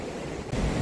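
Fast-flowing river stream in full flow at Aberarth on the Welsh coast, a steady broadband rush of water with wind buffeting, growing slightly louder partway through.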